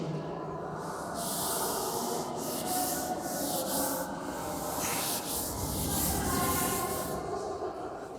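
A classroom board is rubbed down during a physics lesson: a continuous close, scratchy rubbing of repeated wiping strokes, alone without talk.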